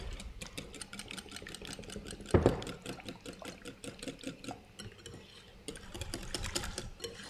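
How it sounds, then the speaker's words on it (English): Quick repeated scraping and clinking of a utensil against a bowl while buttermilk pancake batter ingredients are stirred, a steady fast rhythm with one louder knock midway. "Okay, then we'll stir this together."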